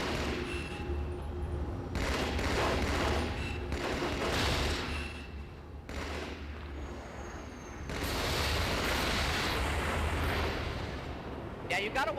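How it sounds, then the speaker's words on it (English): Rumbling gunfire and blasts from the Halo 2 video game, where the battle rifle fires three-shot bursts, roll in loud waves with brief gaps while a voice talks over the action. "watch as I go to work with the battle rifle, which, so you know, unzoomed fires 3-shot bursts"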